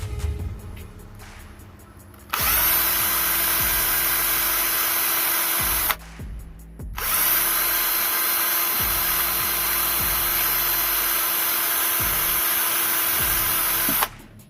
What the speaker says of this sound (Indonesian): Selanjutnya tes putar menggunakan bor DC